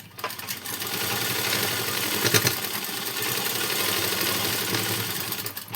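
A sewing machine stitching the seams of a readymade blouse being fitted, a close, steady mechanical whirr that runs without a break, swelling slightly midway.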